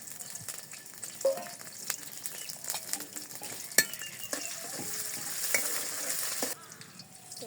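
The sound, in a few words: onions frying in oil for curry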